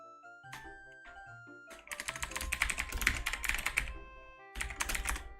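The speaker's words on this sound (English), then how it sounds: "Brought to you by George's keyboard." Computer keyboard typing during a livestreamed Ocarina of Time randomizer race, a close, quick clatter of keystrokes in a short burst, then a dense rapid run, a pause, and another brief flurry, with no talk.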